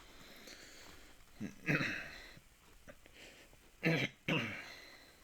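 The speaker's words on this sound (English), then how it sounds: "still have a bit of a cough" A few throaty coughs break the quiet, two clustered near the start and a sharper pair later, fairly close and distinct.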